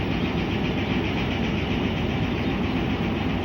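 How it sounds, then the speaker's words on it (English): A BX-620 diesel locomotive works as a yard switcher on Mexico's Pacifico Railroad, giving a steady, loud engine rumble with a continuous mechanical drone and no pauses throughout. "A BX-620 is busy working as the yard switcher."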